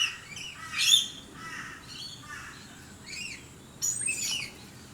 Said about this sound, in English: The self-aggressive cockatoo came right up to me.